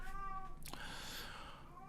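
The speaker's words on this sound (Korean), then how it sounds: "저희 집 고양이가 계속 울어서" A pet cat meows at home, one clear drawn-out cry near the middle of a short, quiet stretch with faint background hum.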